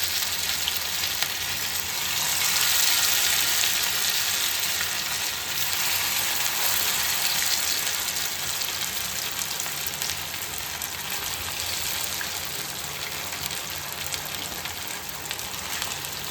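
Fish pieces fry in hot oil for a Chettinad fish fry, giving a loud, dense, continuous crackling sizzle like heavy rain that swells slightly early on and holds steady throughout.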